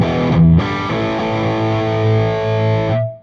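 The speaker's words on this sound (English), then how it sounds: "Rolling the gain up on the Dracaris just about 1 o'clock." Electric guitar through a Dracaris overdrive pedal with the gain near 1 o'clock, a thick distorted chord sustained for about three seconds after a brief change at the start, loud and alone before cutting off.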